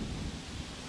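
Thunder rolls through a storm as a loud, continuous low rumble for under a second, with no voices.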